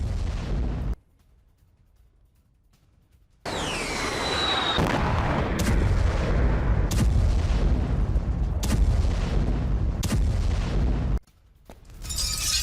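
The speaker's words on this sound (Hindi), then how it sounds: "यूक्रेनी सेना ने हवाई हमलों को अंजाम दिया। रूस की सैन्य चौकियों पर बम दागे गए।" Explosions and artillery fire from Ukrainian strikes on Russian military posts near Kupiansk, heard as loud, sustained blasts and sharp cracks with a rushing whine, broken by brief quiet gaps at the start and end.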